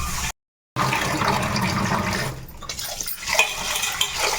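Pearl millet and black gram being washed in water, with a steady close sloshing and swishing of grains and water after a brief silent gap, and no talk.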